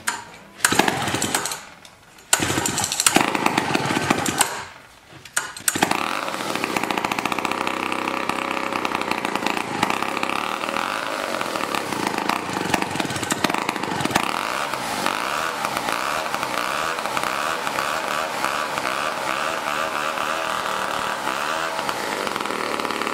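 An antique chainsaw engine sputters through a few rough bursts, then settles into a loud, steady close-up idle with a continuous rattling two-stroke drone.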